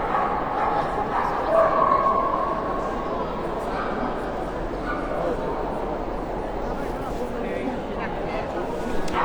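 A Löwchen, the little lion dog, yips and barks at a dog show, the small dog's sounds faint and intermittent beneath continuous talk and crowd noise in a busy hall.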